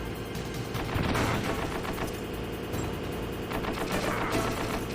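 Rapid bursts of gunfire crackle continuously in the Metal Gear Solid video game, a dense, steady fusillade of shots with no talk in between.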